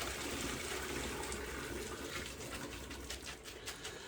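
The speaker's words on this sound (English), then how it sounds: "Now, drain your pasta." Boiled pasta water pours out in a steady, continuous gush and splash, close and fairly loud throughout, with no talking.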